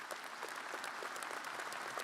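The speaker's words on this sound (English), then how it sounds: "can we give him a round of applause, please?" A university commencement audience gives a round of applause, a dense, even patter of many hands heard from across a large hall.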